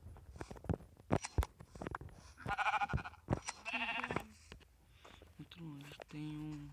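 Sheep bleating in the Minecraft Pocket Edition video game, several short nasal bleats from the game's sheep amid footsteps, with people chatting over the gameplay.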